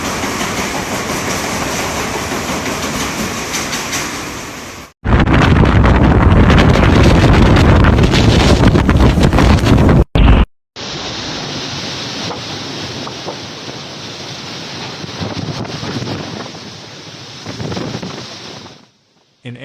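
Strong typhoon winds roar through a city in loud, continuous buffeting gusts that batter the microphone. The sound breaks off abruptly at several points between sections.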